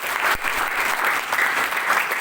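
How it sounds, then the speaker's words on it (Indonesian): Residents of a dormitory audience clap together in a steady, fairly loud round of applause with no break, close and continuous throughout. "Coba siapa yang bersyukur tepuk tangan dulu"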